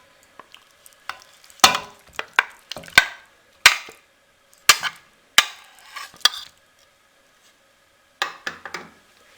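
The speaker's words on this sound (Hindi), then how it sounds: "अब इसमें हम चिकन ऐड कर देंगे।" Chicken pieces are added to a masala in a pot for chicken tikka handi and stirred. A series of sharp spoon scrapes and knocks comes in irregular bursts with short pauses, over a quiet faint sizzle.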